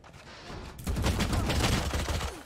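Rapid gunfire in the video game Valorant, a dense burst of shots ringing out for about two seconds after a brief quieter start.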